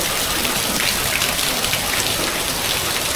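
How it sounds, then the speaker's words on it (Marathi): Heavy rain pours steadily at night past 1 a.m. during a Janmashtami festival outing, a dense, loud, unbroken hiss of drops beating on surfaces, close by and continuous with no voices. "बराच पाऊस आहे"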